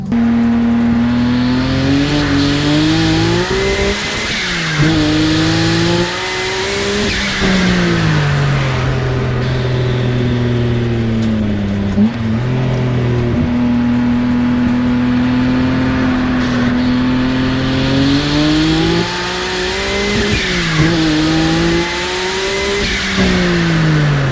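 Loud Nissan Skyline R32 GT-R twin-turbo engine, about 600 hp, revving and accelerating up through the gears, pitch rising and dropping at each shift, close by and continuous.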